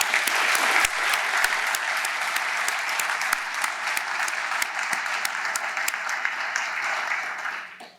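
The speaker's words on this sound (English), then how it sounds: "I think that all deserves a round of applause" A room full of guests at a corporate spring budget breakfast applaud in a dense, sustained round of clapping, loud and close, that carries on evenly before fading away at the end.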